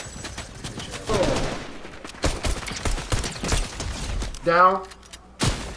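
Fortnite Season 5 gunfire crackles in rapid bursts and scattered single shots, with a few heavier booms, while a player talks over the fighting.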